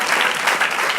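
A church congregation claps together, a dense, loud burst of many hands that fills the whole second without pause.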